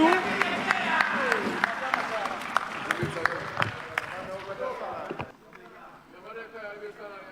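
Applause from members in the Parliament of Malawi, a dense burst of clapping filling the chamber that stops abruptly partway through, leaving quieter room noise and murmuring.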